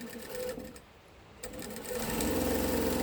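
After a brief pause with light handling noise, a sewing machine starts stitching quilt strips to five-inch squares, its fast, steady whir continuing close and clear to the end.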